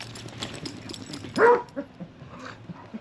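A dog gives a single short, excited yelp-like bark nearby, followed by a few softer whimpers against quiet outdoor background.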